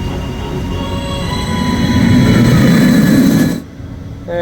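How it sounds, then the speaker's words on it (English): SeaWorld Orlando Penguin Trek roller coaster train rolling past, a loud continuous rumble of wheels on track that swells, holds, then cuts off abruptly as it leaves. "And here comes another train"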